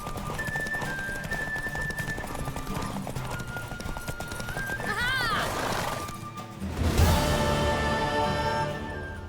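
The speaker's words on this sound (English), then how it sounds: "Worthy of the best horse. The mare is yours." A horse gallops with steady clip-clop hooves and lets out a loud whinny partway through in The Witcher 3, with a voice and game music underneath.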